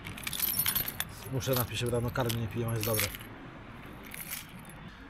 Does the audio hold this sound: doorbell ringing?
no